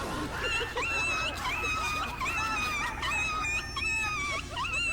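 A dog whimpers and whines in repeated high, wavering cries, close by and continuous, with a low background hum.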